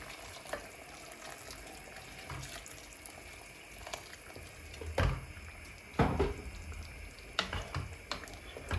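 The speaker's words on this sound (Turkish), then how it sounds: "Bu esnada arkadaşlar sıcak su ilave ediyoruz" Hot water is poured into a cooking pot of eggplant and potato dish, a steady close splashing stream with a few louder surges and no talking.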